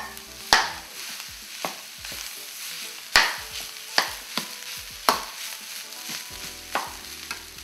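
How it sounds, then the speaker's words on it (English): Potatoes stirred in a pan over medium heat for vegetable samosa filling, a soft sizzle broken by repeated sharp spoon knocks and scrapes against the pan, close and without talk. "So put it on medium heat so that it doesn't get burnt. Now you can add the potatoes."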